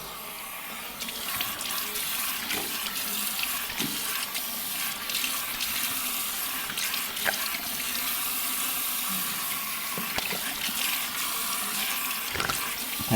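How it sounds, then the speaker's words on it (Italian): A tap runs steadily into a sink, a continuous bright splashing stream of cold water for rinsing after a shave, with occasional small knocks, no voices. "andiamo a sciacquare con acqua fredda"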